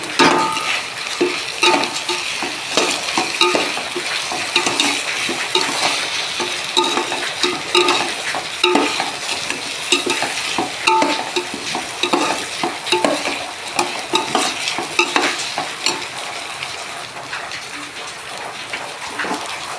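Fried mung dal for khichuri is stirred in a hot pot, with a steady sizzle under repeated scraping and clattering strokes of the spatula that keep a loose, continuous rhythm.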